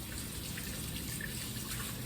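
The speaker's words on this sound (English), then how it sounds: "Let me rinse my hands." Tap water runs steadily into a kitchen sink while hands are rinsed, a constant close splashing flow with no speech.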